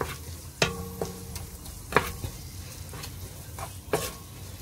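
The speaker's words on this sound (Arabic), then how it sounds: "هننزل دول فصين توم، هننزل بيهم واشوحهم كده برده ياخدوا لون دهبي" Garlic cloves sautéing in ghee with onion for a veggie-and-meat oven tagine, a steady soft sizzle broken by a few sharp clinks of a spoon stirring against the pan, close and alone.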